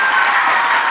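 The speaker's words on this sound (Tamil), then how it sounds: "நெல்லை நாடார் மெட்ரிக் மேல்நிலை பள்ளி மாணவ மாணவிகளே நீங்கள் எல்லாம் கைதட்டி ஆதரிக்குமாறு" School students in the audience of a Tamil debate (pattimandram) for Kamarajar's birthday applaud, a steady dense clapping that fills the full second without pause.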